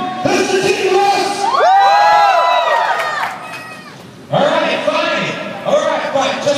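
A crowd of spectators, many of them children, cheers, shouts and whoops at a Russ Swift car stunt show, loud bursts that rise, fade and surge again with voices mixed in.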